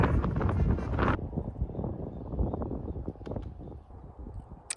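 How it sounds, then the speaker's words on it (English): Strong wind buffeting a microphone while cycling in Montana, a loud rushing roar at first that cuts to lower, gusty rumbling and flutter for the remaining seconds. "What the fuck, I'm always against the wind!"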